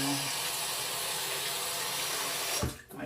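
Water gushes steadily from a kitchen tap, a loud continuous hiss that cuts off abruptly near the end, leaving a brief clatter.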